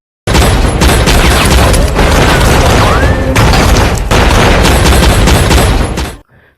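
A film shootout on a bridge in Central Intelligence erupts in loud, sustained gunfire, with dense overlapping shots and booms running for several seconds before cutting off abruptly.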